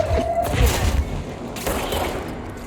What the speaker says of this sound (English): Oh, so they have grenades now.